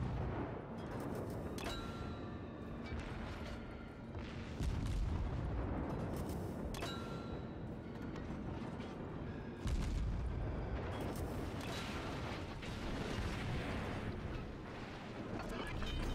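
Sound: ship guns firing automatically in video game World of Warships

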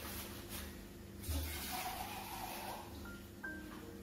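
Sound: more water being poured into a cooking pan

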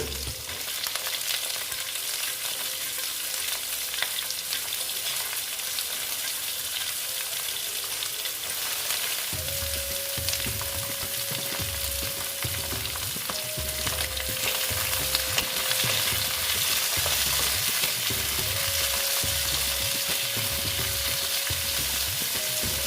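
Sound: vegetables with radish frying and being stirred in a pan

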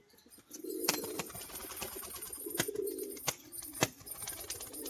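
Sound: male pigeon calling

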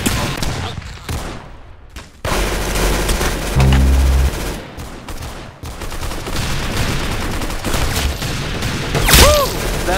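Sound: gunfire, shooting

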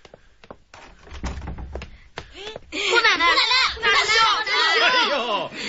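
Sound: door being opened

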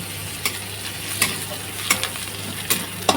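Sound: garlic frying in oil while being stirred

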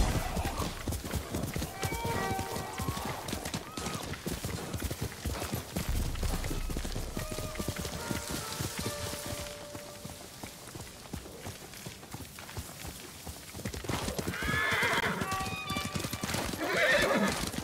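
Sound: horse galloping in Ghost of Tsushima video game

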